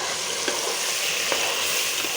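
Chicken sizzles loudly and continuously in an uncovered pan, a dense, even frying hiss close up with a few faint ticks of utensil contact and no voices.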